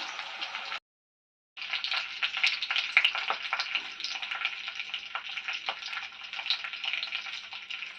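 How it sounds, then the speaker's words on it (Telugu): Steady, loud sizzling of cauliflower frying in hot oil, continuous crackle with a brief silent gap near the start. "ఆయిల్ వేస్తున్నాము ఇప్పుడైతే కాలీఫ్లవర్ వేయించుకున్నాం"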